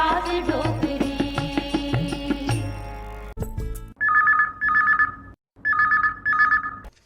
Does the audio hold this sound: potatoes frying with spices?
no